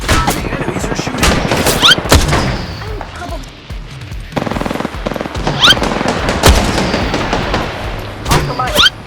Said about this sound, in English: Enemies are shooting.